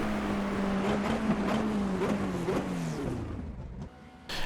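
A Formula Renault 2.0 race car engine in a Suzuka racing video game drones loud and close, its pitch rising and falling steadily as the car lifts and accelerates through corners, with no talking over it.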